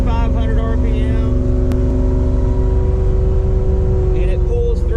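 Car fitted with dual quad carburetors accelerating in high gear at about 2,500 RPM, pulling smoothly; a steady, loud engine drone with low rumble from inside the car, without hesitation or bucking.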